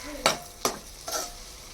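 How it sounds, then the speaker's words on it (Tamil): Pasta is stirred into a tomato and egg paste in a pan, three distinct scraping strokes of a spoon against the pan over a faint background sizzle, close and without speech. "பேஸ்ட் மாதிரி ஆயிடுச்சு கா பாஸ்தா கொட்டி மிக்ஸ் பண்ண தான்"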